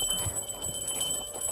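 Bells ring with sustained, bright metallic tones that hold steady over a rough background wash, continuous throughout.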